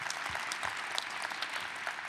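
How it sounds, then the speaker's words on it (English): An audience at a Detroit event about the 2024 NFL Draft claps steadily throughout, a dense, moderately distant round of applause with no voices. "That's a reason to clap"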